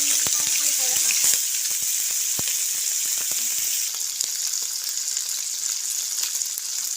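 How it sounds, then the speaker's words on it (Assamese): Small mowa fish coated in turmeric fry in a pan with a steady, bright hiss of sizzling oil and a few soft clicks of handling, continuous and close throughout. "এতিয়া মাছখিনি প্ৰায় ভজা হৈছেই।"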